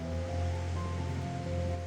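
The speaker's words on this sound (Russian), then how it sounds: "Говорят, с канадской стороны водопад впечатляет куда больше." Niagara Falls roars in a steady, dense wash of rushing water that continues without a break, close and loud.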